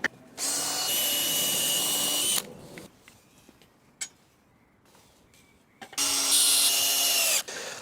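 A power drill drives screws into scrap batten and 18mm marine ply in two loud bursts of about two seconds each, separated by quieter shuffling and handling noises, with no one speaking.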